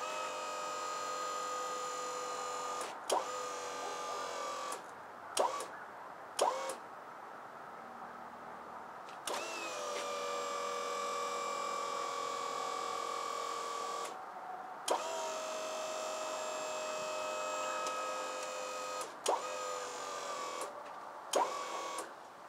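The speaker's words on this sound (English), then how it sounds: "this hydraulic ram will actually expand and pull, bend it back up." Porta Power hydraulic ram pumping to straighten a bent trailer axle, a steady mechanical whine with bright tonal hum that runs in long stretches broken by several short pauses and clunks, fairly loud and alone without talk.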